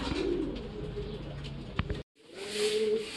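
Racing pigeons coo in low, repeated calls during a training flight day in Gumaca, Quezon, close and clear over faint background noise, with a brief dropout partway.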